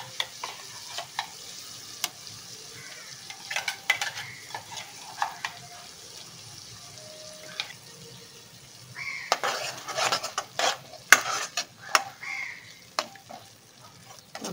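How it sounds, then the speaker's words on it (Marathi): Ground masala sautés in a pan over low heat for butter chicken, with a soft sizzle beneath repeated clinks and scrapes of a utensil against the pan, growing busier and louder toward the end. "आता आपण हे परतून घ्यायचं"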